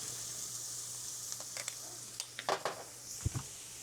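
Onions sizzling in a pan for a chopped cheese sandwich, with a steady close hiss joined by a few scattered pops and scraping stirs toward the middle and end.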